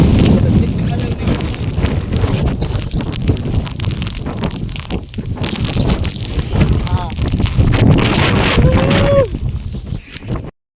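Strong wind on a hilltop at Lohagad roars and buffets the microphone continuously, loud and close, with a voice speaking under the gusts before it cuts off abruptly.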